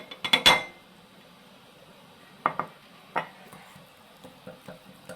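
A spoon clinks against a bowl while eggs are mixed with black pepper powder, cumin powder and salt: a quick cluster of sharp taps, then sparser, softer clinks close by.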